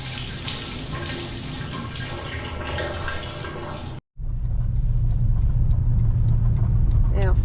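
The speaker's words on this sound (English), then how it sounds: "Shower time." Hot water running from a camper van shower, a broad steady hiss of flowing water that cuts out briefly partway through and then resumes, with engine-like rumble underneath.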